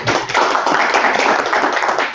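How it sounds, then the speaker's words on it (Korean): An audience at an academic conference applauds, a dense, steady burst of many hands clapping for about two seconds before tapering off. "큰 박수로 한번 부탁드립니다."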